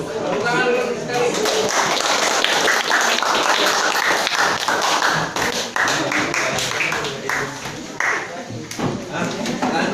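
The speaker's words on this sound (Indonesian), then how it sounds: "Tepuk tangan dulu sekali" A group applauds at a training session, with quick sharp hand claps, some in a rough rhythm, that go on steadily throughout and are close and loud.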